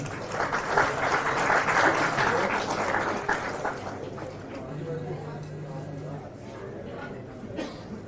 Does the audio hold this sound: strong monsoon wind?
no